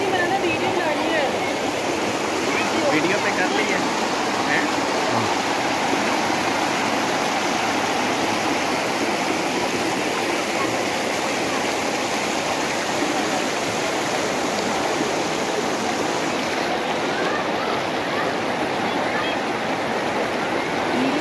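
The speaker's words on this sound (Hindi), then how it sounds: "ये दरिया का पानी है" River water in Shahdara Valley near Islamabad rushes steadily, a dense broadband roar that stays even and loud for about twenty seconds, close by with no clear voices over it.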